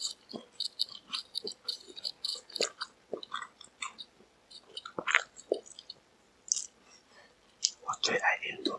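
Indomie instant noodles are eaten right at a close microphone, with soft, moist chewing and small crunchy bites in irregular bursts, while quiet whispering comes and goes between mouthfuls.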